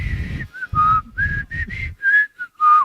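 Someone whistles a short tune, several clear, bright notes in a stepwise phrase separated by brief pauses, close and alone with no talking.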